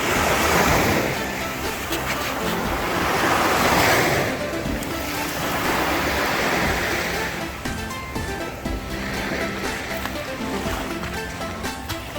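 Sea surf washes onto the shore below a cliff in Pattaya, in steady, loud surges, with a constant breezy rush in the background and no voices.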